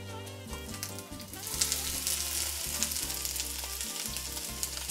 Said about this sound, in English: And now we're going to drop on our onions.